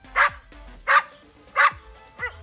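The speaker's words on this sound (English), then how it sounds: "A dog sounds like this." A dog barking, played back by Google Assistant: three evenly spaced, clear barks followed by a softer fourth yip, each short and close.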